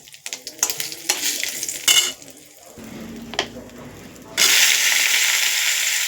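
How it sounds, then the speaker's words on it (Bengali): Meat cooks in a pan while being stirred, with sharp scraping and clattering of a utensil on metal, then a loud, steady hiss of frying close by. "দেখো, মিট রান্না করছি।"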